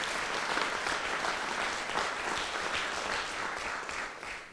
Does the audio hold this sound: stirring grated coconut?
no